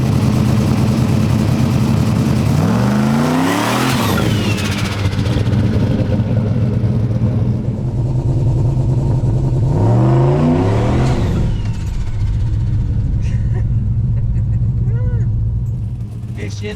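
A car engine fitted with a Nitrous Express turbo spooler on a 62 jet revs hard twice, each pass a rising, sweeping roar that falls back to a loud rumbling idle between bursts, close and continuous.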